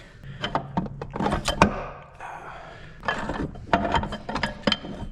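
Intermediate clutch pack being pulled from a Ford E4OD transmission on a 1996 F-250 with a 460, close metallic clinks, scrapes and clattering of plates in irregular bursts, with a short quiet pause midway.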